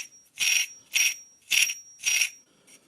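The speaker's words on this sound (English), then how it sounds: "It's real noisy on this clutch bell" The clutch bell on an HPI Nitro RS4 RC car rings noisily in four evenly spaced, metallic, buzzing bursts about half a second apart, close and loud, with no talking.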